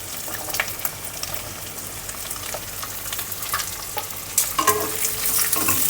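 Square-cut onions frying in a pan for a chilli bhetki fish dish, a loud close sizzle with scattered crackles and stirring scrapes, swelling toward the end, with no voices.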